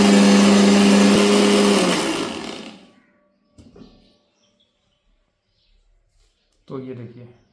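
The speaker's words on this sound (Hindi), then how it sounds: "तो एक बार और हम इसको ग्राइंड करेंगे" An electric grinder grinds herbal gulal powder for Holi, running loud and steady for about two seconds, then winding down and stopping, followed by a couple of faint knocks and a short burst of speech.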